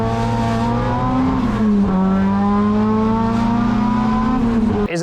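A turbocharged race car of about 600 to 650 horsepower accelerates hard on boost at a motorsport festival, its loud, close engine note climbing and holding with a brief dip as it shifts, with no voices.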